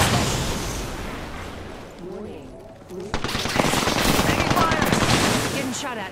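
Rapid automatic gunfire rattles in an Apex Legends firefight, dense continuous bursts close by with a brief lull before a renewed loud volley, and a voice speaking partway through.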